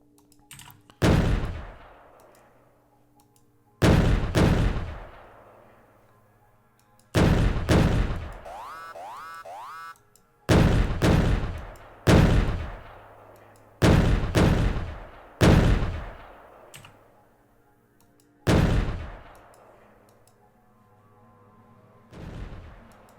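Automated gun turrets in the Factorio video game fire at attacking biters, loud sharp bursts arriving in about eight separate volleys with brief quiet gaps, one volley carrying a springy, bouncing tone.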